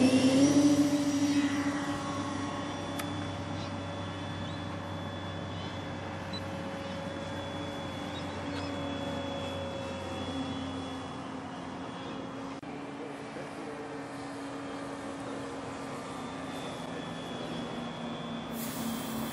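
A scale radio-controlled twin-engine Royal Flying Doctor model plane takes off, its engines droning steadily and fairly loud at first, then settling into a constant hum as it climbs away, with faint talk in the background.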